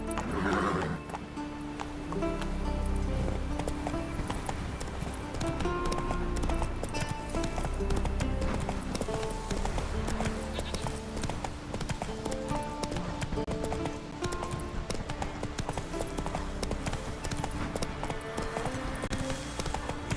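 Roach, Geralt's horse in The Witcher 3, gallops with a steady clip-clop of hooves and an occasional whinny, set against a continuous game music score and ambience that stays fairly loud throughout.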